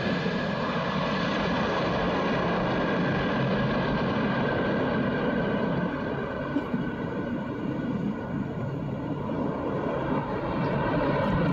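An airliner rolls along the runway at Shahjalal International Airport after touchdown, its engines giving a continuous, even roar with a layered droning hum that holds steady throughout, close and loud.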